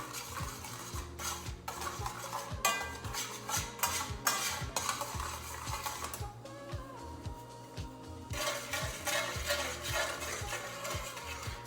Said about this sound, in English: I'm gonna stir it up a little bit.